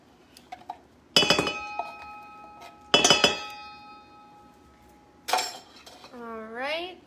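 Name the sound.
emptying cans of cream of mushroom soup into a mixture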